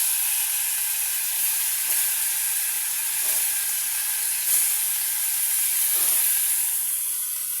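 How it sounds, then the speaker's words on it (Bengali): Tilapia fish fry in hot oil in a pan, giving a steady, bright sizzle and hiss that runs throughout with small crackling bursts and no voices. "মাছটা ভাজা হচ্ছে"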